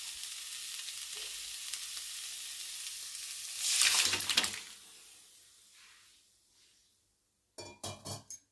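A dal tempering fries in ghee with dry red chilli, cumin, tomato, bay leaf and coriander leaves, a close, continuous sizzle that swells briefly and then dies away, followed by a few utensil clinks.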